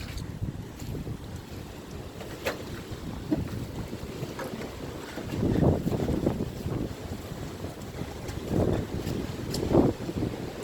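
Strong wind roars across a back yard in the aftermath of Hurricane Michael, buffeting the microphone in loud, continuous gusts that swell in waves, with no one speaking.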